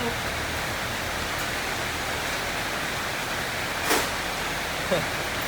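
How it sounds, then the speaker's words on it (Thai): Rain falls in a steady broadband hiss that fills the whole scene, close and even, with a couple of faint brief knocks near the end. "โอ้ฝนตก"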